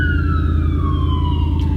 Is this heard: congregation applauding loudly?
no